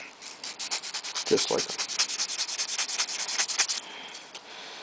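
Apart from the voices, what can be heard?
sanding a ring surface with 600 grit sandpaper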